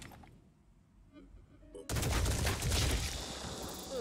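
Gunshots in the turn-based video game Phoenix Point: after a quiet stretch with faint ticks, a loud burst of rapid gunfire erupts and continues densely to the end.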